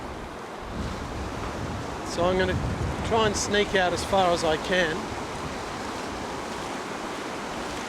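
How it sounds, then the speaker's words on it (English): Steady rush of ocean surf on a beach while fishing for tailor, with crossing waves washing continuously in the background as someone speaks close by over the noise. "And we get these cross waves where the waves hit each other."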